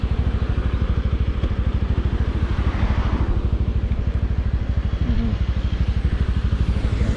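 A Suzuki Raider FI motorcycle engine runs close by, loud and rough, with a rapid, even putter that holds steady throughout and no talking.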